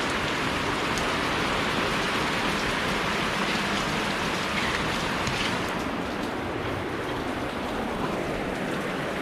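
Steady rain falls outdoors in a rural provincial setting, a dense, continuous hiss of drops pattering on surfaces, fairly loud and unbroken.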